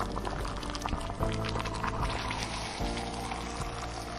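Hot spiced oil pours onto chicken kosha curry, a short burst of splashing sizzle followed by bubbling liquid and faint drips, close and moderately loud, with no voices.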